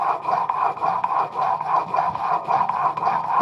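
A blade being sharpened, rapid rhythmic rasping strokes repeating steadily, close and clear with no talking.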